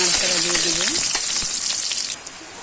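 Chopped ginger, garlic, bay leaf, cardamom and cinnamon frying in hot oil for a mango pickle, giving a loud, dense, steady sizzle close up, with a brief voice-like tone near the start.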